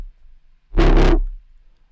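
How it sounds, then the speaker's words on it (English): Asymmetric distortion on a drum and bass sound in FL Studio, heard as one loud, harsh, gritty burst lasting about half a second over a low rumbling bed. "some asymmetric distortion"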